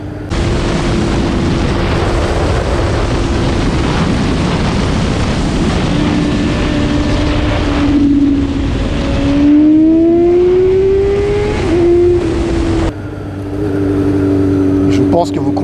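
A Honda CB650R four-cylinder motorcycle revving hard and pulling from 90 in second gear, a loud, close, rising high-pitched engine howl that climbs steadily, drops briefly with a shift, then settles.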